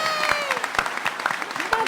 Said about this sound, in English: Round of applause for Justine Ireland.